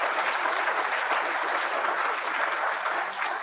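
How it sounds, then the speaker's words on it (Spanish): Audience at a teachers' professional-training congress applauding a speaker, steady dense clapping that holds for several seconds close by, with no talk over it. "Le damos aplausos entonces a Sergio."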